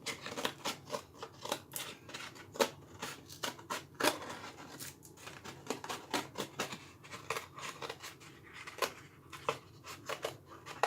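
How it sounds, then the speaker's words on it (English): Scissors snipping through craft material, a quick run of crisp close cuts with short pauses, steady and clear with no talking. "Now from here, I can start to cut if I want a bigger hole."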